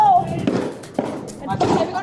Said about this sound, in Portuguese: começa um novo tiroteio